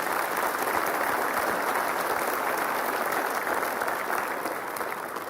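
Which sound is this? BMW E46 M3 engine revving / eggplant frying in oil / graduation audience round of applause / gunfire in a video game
graduation audience round of applause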